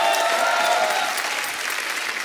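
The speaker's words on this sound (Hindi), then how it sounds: "जोरदार ताली।" A studio audience bursts into loud, sustained applause at a comedy show, dense clapping from many hands that fills the space and fades slightly toward the end.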